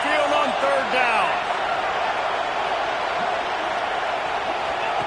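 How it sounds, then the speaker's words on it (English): A stadium crowd roars steadily on third down at an Alabama home field in a college football video game, a dense continuous wash of cheering with a commentator talking over it. "The Tide crowd rolling noise down onto Saban Field on third down."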